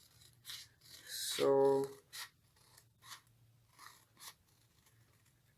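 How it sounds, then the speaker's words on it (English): Scissors snip through paper for a craft mat, giving one short crisp cutting crunch amid a few soft rustles and light handling sounds, with a brief spoken word. "I'm gonna cut this line fully because it's not 1 inch that side."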